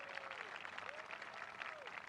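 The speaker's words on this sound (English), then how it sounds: "That deserved a round of applause right there." Applause from the audience at a presidential speech on voting rights legislation, a steady dense clatter of clapping throughout, fairly faint and distant, with a faint voice or tone rising and falling underneath.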